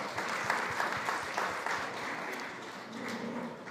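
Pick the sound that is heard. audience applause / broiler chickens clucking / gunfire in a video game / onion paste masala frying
audience applause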